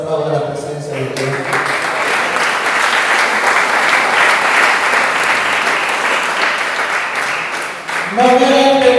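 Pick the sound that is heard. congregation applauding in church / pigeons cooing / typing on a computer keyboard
congregation applauding in church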